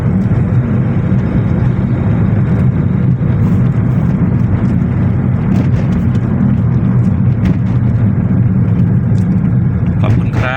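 A car engine runs steadily at idle during a demonstration, producing a loud, continuous, close-up rumble with no break.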